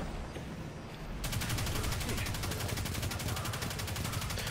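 Video game gunfire crackles in rapid, evenly spaced bursts, loud and continuous after a brief softer opening.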